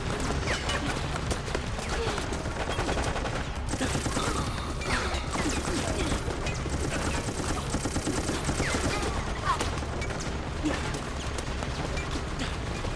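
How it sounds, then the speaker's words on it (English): Sustained rapid assault-rifle fire in the video game Resident Evil: Operation Raccoon City, dense continuous bursts with impact crashes and mechanical clatter throughout, mixed with game sound effects. "I'm taking the assault rifle."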